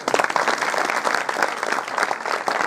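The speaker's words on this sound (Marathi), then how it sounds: "टाळ्या वाजतील की नाही?" Audience applause at a school reunion get-together of a former SSC batch, a dense, steady burst of clapping from a crowd that stays loud and continuous throughout.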